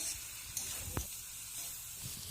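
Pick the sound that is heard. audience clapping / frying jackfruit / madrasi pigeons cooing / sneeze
frying jackfruit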